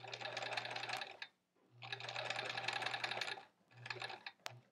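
A sewing machine stitches through many layers of fabric in a small quilt pinwheel block, running in three quick bursts of rapid, even needle clatter with a steady motor hum and short pauses between, fairly faint and close.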